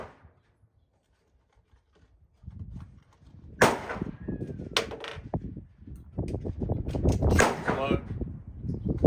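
A Mossberg 590 shotgun fires buckshot and slugs at a pumpkin on an outdoor range. A few sharp, cracking reports are spread across the clip, with a rumbling background between them.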